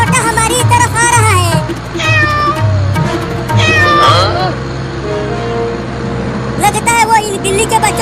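Several high, wavering kitten meows come in bursts, loud and close, with people talking in between and a low vehicle hum underneath.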